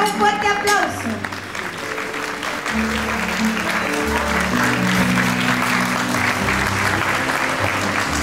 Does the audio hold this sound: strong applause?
yes